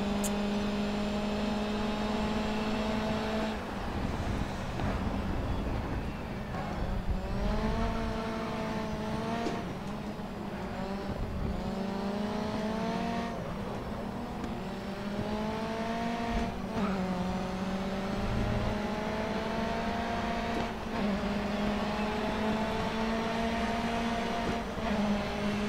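Race car engine in GRID Autosport, played on a G27 steering wheel, droning loudly and continuously, with rising revs broken by repeated gear shifts that drop the pitch before it climbs again, heard alone without talk.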